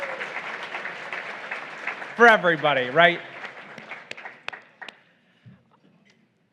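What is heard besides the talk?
audience applause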